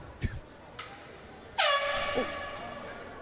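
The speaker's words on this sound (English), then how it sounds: "We have an air horn in the building." A single loud air horn blast rings out at a high school hockey game after a couple of faint thumps, tapering into an echoing tail amid quiet crowd noise.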